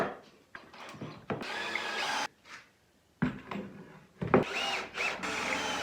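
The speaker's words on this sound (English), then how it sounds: "we're just going to screw those right in on the edge there" Power drill driving screws into the edge of a 2x6 wood side table frame, several whirring bursts of a couple of seconds each, close and loud, separated by short pauses.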